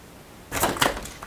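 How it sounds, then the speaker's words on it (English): Scissors snip through crochet yarn in a few quick, close crisp cuts after a quiet pause. "let me cut this yarn here"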